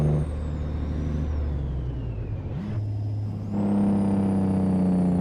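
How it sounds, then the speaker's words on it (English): A Freightliner FLB truck in American Truck Simulator rumbles loudly under engine braking, its deep engine drone shifting pitch as it gears down, with a whining, whirring tone rising and falling over the steady roar. "Engine brake time."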